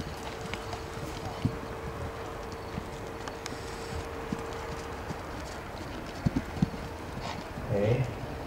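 Horse hooves during a show jumping clinic session, a few soft clip-clop thuds at a distance, heard under steady background noise with an instructor's voice nearby.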